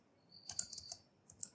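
A few quick, faint keystrokes on a computer keyboard come in a short burst of light taps, with nobody talking.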